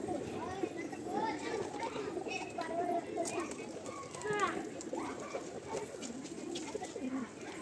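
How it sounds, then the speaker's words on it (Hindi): Many pigeons cooing and calling around their loft, a steady outdoor chorus of soft coos under a busy background with some voices and children nearby. "कितने ज़्यादा कबूतर है देखिए दोस्तों"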